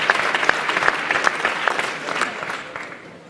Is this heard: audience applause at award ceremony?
yes